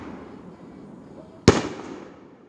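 A single sharp firework explosion at night in West Haven, going off as one loud bang over faint background noise and trailing off in a brief rumbling decay.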